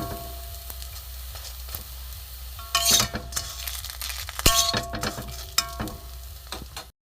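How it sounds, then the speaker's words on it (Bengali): Slices of bread pitha fry in oil in a pan over low gas, a steady close sizzle broken by several sharp clinks and scrapes as the pieces are turned. "এপিট ওপিট করে লাল করে ভেজে নেব।"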